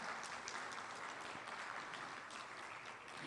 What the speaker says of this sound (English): Let's give them another applause from when they were on stage.